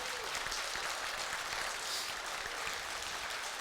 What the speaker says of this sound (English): That's far too much clapping for them.